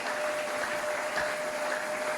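A church congregation applauding to acclaim Jesus, a steady, even wash of clapping from many hands that sounds moderately distant and fills the whole moment without pause.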